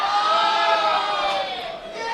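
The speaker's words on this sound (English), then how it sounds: "A few cheers from the crowd who were very impressed with that move" A crowd at a Football West State League Division 1 grand final lets out a sustained, loud, massed roar of voices after a defensive move, easing off slightly toward the end.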